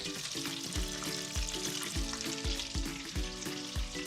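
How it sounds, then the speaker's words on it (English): Stuffed food sizzling in a deep fryer's hot oil, a dense, bubbling crackle that runs throughout, with repeated low thumps and clatter of kitchen handling mixed in. "now we're just gonna head to the fryer and get them dropped in."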